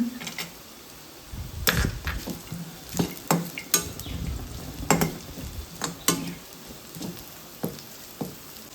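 Whole cloves, cinnamon and bay leaf being stirred into onions and garlic frying in a pan, heard as steady sizzling broken by repeated scraping clinks of a spoon against the metal at an uneven rhythm.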